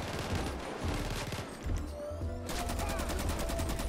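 Rapid automatic gunfire in GTA V during a gang war shootout, dense bursts of shots rattling continuously, with a pause mid-way before a faster, sharper volley resumes at the end.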